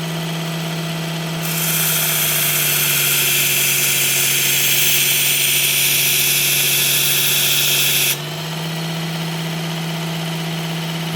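A knife with HCR 14 steel being sharpened on a Work Sharp Ken Onion powered sharpener, a steady motor whine under a brighter grinding hiss that swells for about six seconds as the blade meets the belt and then drops back to the motor hum.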